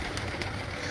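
Domestic pigeons kept in a loft, a brief soft cooing under steady background noise, faint and close.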